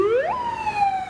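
An emergency-style siren on a road vehicle, used on a campaign bus, gives one continuous loud wail that sweeps sharply upward and then holds a steady high tone, alone with no talk.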